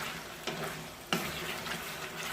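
Peas, carrots and potatoes fry in a pan for vegetable biryani, a steady soft sizzle broken by two quick stirring knocks.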